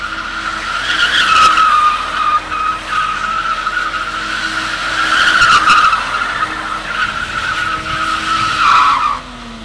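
A Lexus drift car skids with loud, sustained tire squeal that rises and falls in long sweeps over a revving engine, heard fairly near and uninterrupted by voices.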